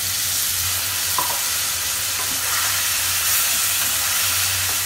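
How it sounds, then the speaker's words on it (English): Whole spices frying in hot oil in a home kitchen for an Indian aloo and gobi masala, a continuous loud sizzle with occasional stirring scrapes and no talking. "They have been frying for 5 to 6 minutes now."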